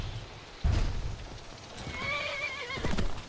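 A horse in the video game Skyrim whinnies while being tamed. The neigh rises and wavers over a steady background of hooves and movement, with a sharp thump near the start, and no one talks.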